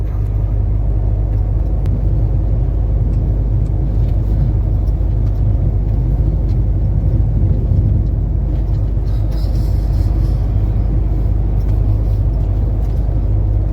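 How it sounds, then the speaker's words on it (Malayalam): Steady low road rumble from a trailer truck driving along a desert highway toward Riyadh, with continuous engine and tyre drone throughout and no voices. "ട്രെയിലർ അല്ലാതെ വേറെ ഒരു വണ്ടി ഈ റോഡിലില്ല അങ്ങോട്ടും ട്രെയിലർ ഇങ്ങോട്ടും ട്രെയിലർ"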